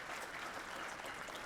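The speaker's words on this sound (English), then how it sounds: "Let's give them a round of applause." Faint, even applause from an audience at a valor awards ceremony, continuous clapping with no break over a short stretch.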